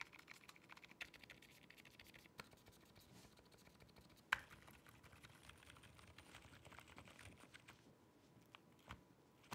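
Close, quiet typing on a custom Fuji65 mechanical keyboard with lubed stabilizers, a steady patter of keystrokes with a few heavier space bar thuds.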